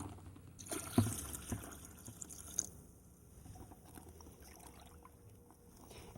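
Pickling brine poured into a vegetable-filled container, a soft liquid trickle and splash with a brief louder gush near the start, then a quieter continuing dribble.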